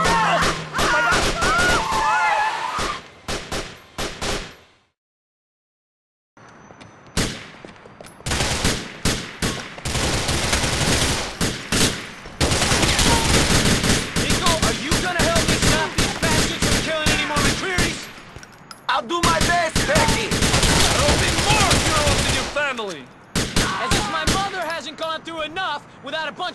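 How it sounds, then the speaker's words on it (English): Gunfire in the GTA IV funeral shootout: repeated bursts of loud, close automatic fire and crashing impacts, broken by a brief silence, with voices shouting over the chaos. "Without a bunch of goons shooting up her son's funeral."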